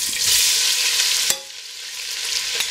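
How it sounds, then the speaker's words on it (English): Ham sizzling and frying in a pan of rendered bacon fat, a steady hiss broken by a brief stir or clatter partway through, then the sizzle resumes. "The bacon is crisped up, so I'm taking it out and adding my ham instead."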